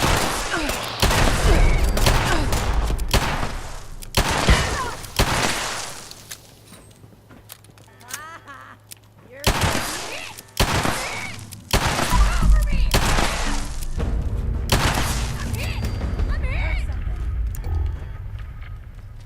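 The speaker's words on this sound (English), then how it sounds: "they're shooting at me with pipe weapons" Repeated bursts of pipe weapon gunfire in the game Fallout 76 crack out in rapid volleys with short pauses between them, loud and close, and someone talks over some of the shooting.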